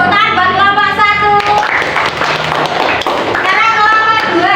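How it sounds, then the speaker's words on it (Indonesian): Children clapping for a classmate group in a classroom, a brisk burst of many small hands with scattered taps and thumps, mixed with children's voices and an adult talking over it. "tepuk tangan buat kelompok 1"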